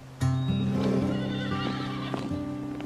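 A horse neighs loudly and close, a sustained harmonic whinny lasting a couple of seconds, with faint hoof clip-clop beneath, on a riding stable in a French animated series.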